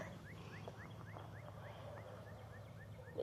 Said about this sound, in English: our neighbors have a chicken.